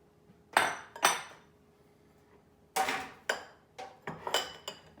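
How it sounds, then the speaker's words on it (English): Rolled oats for flapjacks tipped into a big mixing bowl, a few bright clattering bursts as the container and spoon knock against the bowl, separated by short pauses. "So first it is our oats will go in our big bowl"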